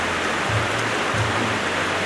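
Steady, soft hiss of light drizzle falling in Batangas during a typhoon, continuous and even, with a low hum pulsing faintly underneath.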